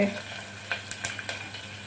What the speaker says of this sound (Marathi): आता आपण कांदा परतून घेत आहोत